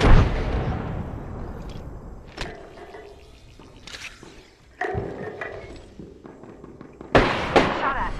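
A grenade blows up during an Apex Legends match, a sharp blast at the start and further booming impacts and bursts scattered across the gunfight, loud and close, mixed with gameplay noise.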